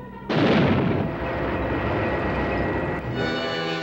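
Artillery fire in a 1950s B-movie trailer: a sudden loud blast followed by a sustained rumbling roar that holds steady for several seconds, with no speech over it.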